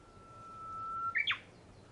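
A single bird, a mystery species being searched for, gives a thin sustained whistle that rises into a brief sharp chirping call, faint and fairly near against quiet background hiss.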